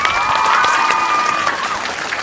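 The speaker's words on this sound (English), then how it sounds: "So, Max, that was a little bit of extra applause right there." Audience applause at a graduation talk-show demo day event, steady dense clapping from a crowd filling the space, loud and continuous without talk.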